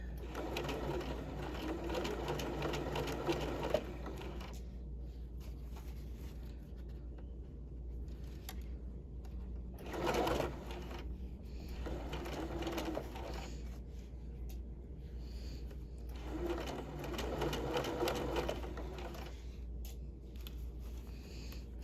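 A sewing machine stitches fabric along a princess seam, running in several sustained bursts of rapid, even whirring with short pauses between them, close and clear over a low hum.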